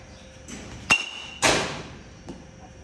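Baseball bat meeting pitched balls in an 80 mph batting cage: two sharp, clear impacts about half a second apart, the second followed by a ringing tail, with a fainter knock later against quiet background noise.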